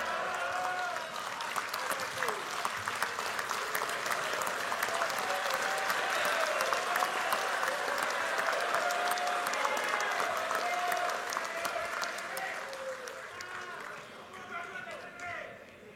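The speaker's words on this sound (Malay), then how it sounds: "kalau kita tidak berdiri dan memberikan tepukan pada beliau" A standing audience at the UMNO general assembly applauds the party president, a long, broad roar of clapping with cheers and voices, steady and loud before tapering off near the end.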